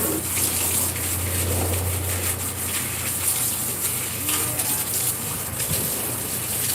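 Water gushing and splashing during an outdoor rinse-down at a backyard barbecue, a continuous loud hiss of running water with a low hum underneath for several seconds.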